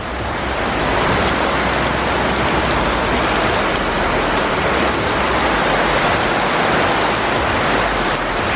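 Heavy rain falls steadily on a rainy day in Jamaica, a loud, dense and continuous broadband hiss with no voices over it.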